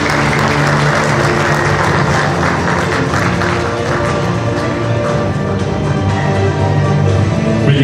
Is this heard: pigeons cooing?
no